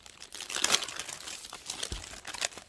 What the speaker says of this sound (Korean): 꽃을 싸주는 이 망사를 놔뒀다가 잘라서 써요